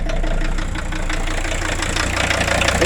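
A 1984 Audi 4000 quattro diesel engine idling from a cold start, a loud continuous clattering rattle heard up close with no talking.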